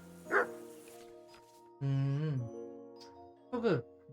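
Dog barking in Kingdom Come: Deliverance II: a short yelp, then a longer drawn-out bark or howl, and another sharp bark near the end, all over a quiet game background with a faint jingle.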